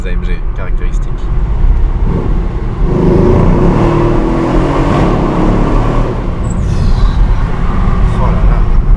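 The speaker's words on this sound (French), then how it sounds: "on garde le beau bruit du V8" An AMG V8 supercar at the Top Marques 2017 event revs and accelerates hard with a deep, loud, rumbling roar that swells and holds close by for several seconds.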